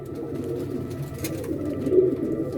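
Pigeons cooing and fluttering at close range, a steady low murmur of several birds with a faint rustle, no talking over it.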